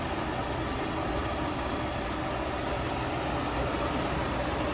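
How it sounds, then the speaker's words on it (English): The 289 V8 of a 1966 Ford Mustang convertible with a new fuel pump idles steadily and evenly. It is heard close up with the hood open, with a dense, unbroken engine rumble and no talk. "There's that 289 V8. Listen how smooth that is."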